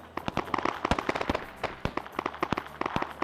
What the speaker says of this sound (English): Got all that gunfire now happening.